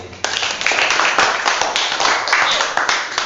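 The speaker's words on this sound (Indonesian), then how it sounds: "tepuk tangan untuk Erli" Classroom clapping for a student during a teaching demonstration lesson, a burst of many quick hand claps from a small group that starts abruptly and continues steadily for about three seconds, fairly close and loud.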